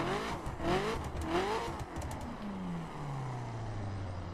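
A car in The Crew racing game revs its engine with a turbocharger-like whine, pitch climbing in two quick surges, then a long falling whine as the revs drop and settle, loud and unaccompanied by talk.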